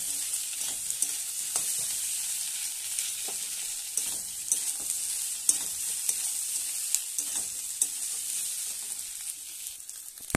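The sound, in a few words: sautéing ginger-cumin paste and spices in a pan for tangra fish curry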